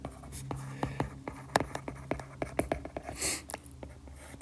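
A pen scratches out a quadratic equation up close in quick, light, rhythmic strokes and taps. The writing is quiet and sits over a faint room background.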